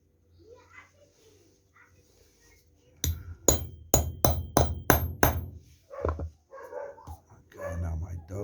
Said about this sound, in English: now my dogs are freaking out.